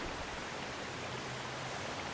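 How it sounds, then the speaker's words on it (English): Fast, overflowing water rushes in The Legend of Zelda: Twilight Princess, a brief, steady wash of broad hissing noise like a stream, alone and without speech. "The water is kind of overflowing at this moment."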